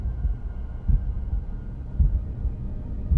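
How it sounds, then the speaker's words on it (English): A slow, deep heartbeat in the puzzle video game The Room, low thumping pulses repeating about once a second over a faint hum, alone and steady. "And there's a heartbeat"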